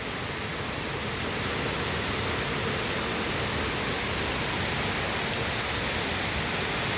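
A broad, steady wash of rain pours down without pause on a waterlogged road during a July downpour, close and loud, with no voices.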